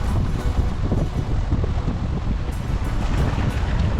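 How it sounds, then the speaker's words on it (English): Strong wind buffets the microphone at a marina at night, a loud continuous roar with gusty rumble and possible water noise beneath. "it's really blowing out here"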